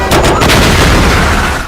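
A Molotov bomb in a film bursts in a loud, close blast, and a dense roaring rumble with crackle follows and fades slowly.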